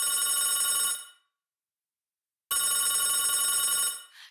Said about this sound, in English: One day, Quackie received another call from an unknown number.